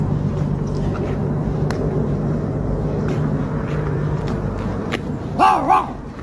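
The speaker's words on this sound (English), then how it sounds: "Listen to his bark." A dog gives a short double bark near the end, loud and close after a stretch of steady background hum.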